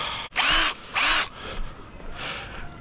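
18V cordless drill whirring in two short bursts against a lawn mower that won't start, then a fainter third spin; close and dry, with no talk.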